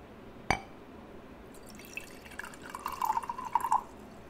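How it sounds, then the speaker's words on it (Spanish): Water poured from one small glass jar into another, a sharp clink at the start, then a trickling, bubbling pour with bright splashy drops that builds over a few seconds, close and quiet with no talk. "Y voy a verter un poco del agua en otro botecito de cristal."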